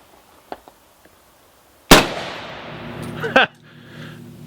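A single sharp, loud impact from a lead hunting round fired by an M1 Garand in 30-06 striking an AR500 steel gong, with a ringing decay that follows, then a second metallic clang and a faint tail.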